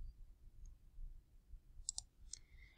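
Keys pressed on a TI-84 graphing calculator: a few sharp, faint plastic clicks near the end, after a quiet stretch with a low background hum.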